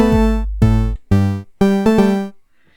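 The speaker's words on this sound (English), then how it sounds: "I found a nice little lead sound for us and programmed in a bit of a melody" An FM synth lead from a Sonicware Liven XFM, layering Supersaw and Crystal sounds, plays a short melody of five bright, buzzy notes with clear gaps between them, ending in a faint tail.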